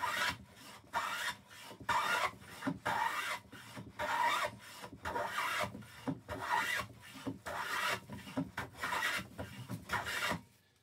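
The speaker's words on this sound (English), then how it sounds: "I'm just going to put a little chamfer on the edges so it sits nicely in the bottom of the cylinder." A file rasps a chamfer along the edges of a small wooden board in steady, evenly spaced strokes, about a dozen close, gritty passes with brief pauses between them.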